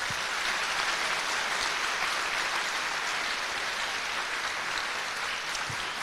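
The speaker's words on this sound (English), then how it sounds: "So let's give them a round of applause." Steady, dense applause from an audience at a high school senior awards program, honoring award recipients; continuous clapping throughout with no talk over it.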